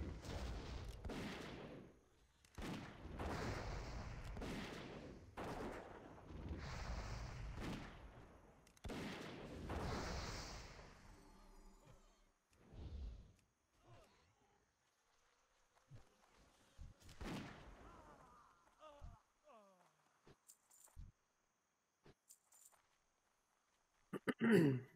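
Enemy gunfire in World of Warcraft Classic, Wrath of the Lich King: a rapid series of sharp, cracking shots in the first half, then sparse quieter hits and brief effects, with a voice speaking at times.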